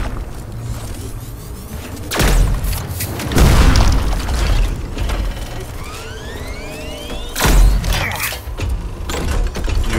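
Enemy tracking shots slam into the player in Hellpoint: a few heavy booming impacts with metallic ratcheting and whirring game effects, loud and close, with no talk.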